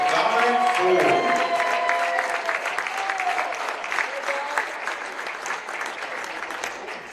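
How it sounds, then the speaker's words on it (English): A crowd at a women's basketball game applauds a graduating men's player, number 11, Dominic Ford, with sustained clapping and cheers in a gym that fade gradually, and a few voices are heard amid it. "Ladies and gentlemen, please give a big round of applause for number 11, Dominic Ford."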